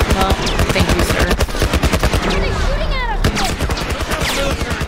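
Heavy-weapon gunfire in The Last of Us video game: rapid, continuous machine-gun bursts, loud and close, densely overlapping with sharp reports throughout, with a voice heard briefly under the shooting.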